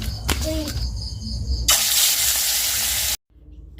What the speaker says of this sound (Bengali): একবারে সব মাছ দিলে এক ভাজাই হবে না ভালো করে এই জন্য তিন চার পিস করে আমি ভেজে নিই